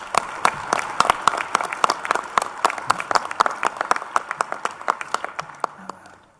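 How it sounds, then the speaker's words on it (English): Audience applause for dignitaries on stage at a conference session in a main hall, a steady crowd of individual sharp claps close by, fairly loud and sustained, thinning toward the end. "may I request you to give a big round of applause for all the dignitaries on stage"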